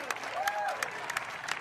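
A crowd claps and cheers in a short burst after a point at a pickleball world championship match, with the applause steady and fairly close.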